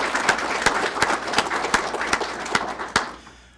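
Applause at a supervisor academy graduation, a dense burst of clapping with a few sharp close claps standing out, fading away at the end.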